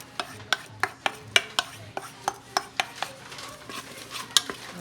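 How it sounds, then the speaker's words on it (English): A diced onion sizzles in a hot pot with olive oil, under a regular series of sharp metallic clinks and scrapes as a utensil stirs it against the pot. "Wait for the sizzling to happen."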